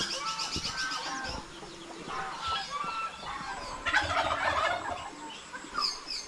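Chickens and ducks mingle on a farm, giving off a dense, busy mix of clucking and squawking calls that swells louder partway through, with no one talking.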